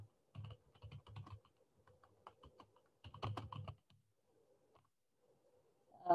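Hello world code typed on a computer keyboard: quiet clusters of quick key clicks in uneven bursts, with short pauses between, close and faint.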